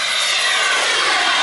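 A turbine-powered RC model of a T-33 jet flies overhead with a loud, steady, continuous jet roar that stays strong throughout.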